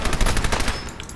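Rapid automatic gunfire with heavy recoil in the video game Fallout 4 rattles out in a loud, dense burst, close and continuous for just over a second.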